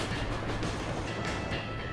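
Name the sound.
train running in video game The Escapists 2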